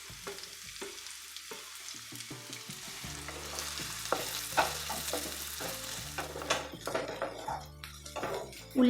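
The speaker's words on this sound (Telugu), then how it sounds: "ఈ నూనె వేడెక్కిన తర్వాత మనం దీనిలో ఉల్లిపాయలు పచ్చిమిరపకాయలు వేసి వేయించుకోవాలండి." Onions and green chillies fry in hot oil in a kadai for a methi mutton curry, giving a steady close sizzle under repeated scraping and stirring strokes and occasional clinks of the spoon against the pan.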